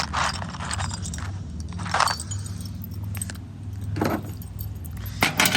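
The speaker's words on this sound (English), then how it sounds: "all we gotta do is find ourselves an Allen key that fits these bolts" Allen keys jangle and scrape as they are rummaged through in a close metallic clatter, while work goes on at the wheel bolts of an 87 Chevy C20, with a steady background hum.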